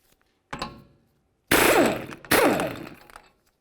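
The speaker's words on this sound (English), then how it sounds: "Now let's move along to removing our 36mm axle nut." Three bursts of mechanical ratcheting and cracking as a 36mm axle nut is removed from a 2002-2006 Honda CR-V hub: a short first burst, then two longer loud ones close together, with no talk.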